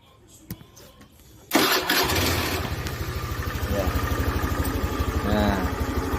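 A motorcycle being started after a few quiet clicks and taps, the engine catching abruptly and settling into a loud, steady, pulsing idle close by, with faint talk underneath.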